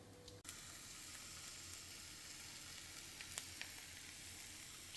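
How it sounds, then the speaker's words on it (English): Two eggs frying in a pan, a steady close sizzle and crackle with occasional pops, no voices. "we will be making 2 fried eggs to go with the leftover rice"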